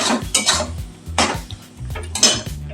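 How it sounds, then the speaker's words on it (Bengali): Spices being stirred into mutton keema in a pan, with repeated close metallic scrapes and clinks of a spoon against the pan in an uneven rhythm. "মশলা একটু নেড়ে চেড়ে নিচ্ছে"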